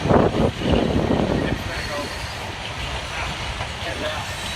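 A train rolls along railroad tracks near a station with Amtrak and freight traffic, a loud rumbling roar strongest at first that eases into a steady lower rush, while someone talks over it.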